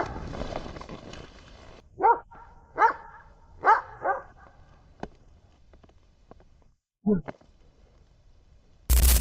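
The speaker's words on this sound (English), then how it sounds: "Moments later, he begins barking." A dog barks several times in spaced bursts, fairly close, with quieter gaps and a faint low background between barks.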